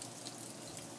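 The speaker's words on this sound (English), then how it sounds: "the water cascading down through a bamboo pipe and into this little splash basin" Water from a garden fountain cascades down a bamboo pipe into a small splash basin, a steady close trickle and splash with no voices.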